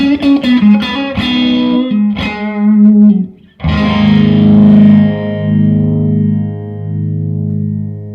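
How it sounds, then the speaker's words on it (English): Overdriven electric guitar with a phaser placed before the overdrive, sweeping and swirling, a few picked notes and bends followed by a sustained, heavily distorted chord ringing out. "So the phaser before the overdrive."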